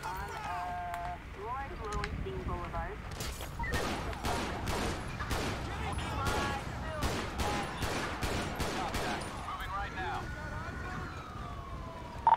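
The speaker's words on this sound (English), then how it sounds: "shots fired, shots fired," Rapid gunshots from GTA 5 with the LSPDFR police mod crack out in a fast irregular volley, loud and near, with siren-like tones wailing at the start and end and voices mixed in.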